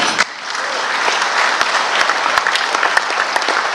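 Large crowd at a political gathering breaking into loud applause after a brief pause, a dense continuous roar of clapping with occasional sharper claps close by.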